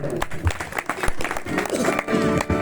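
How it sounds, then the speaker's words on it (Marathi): An audience at a bhajan contest bursts into scattered, lively applause with sharp individual claps, while a voice talks over it and a crowd murmurs in the background. "प्रणवसाठी एकदा जोरदार टाळ्या."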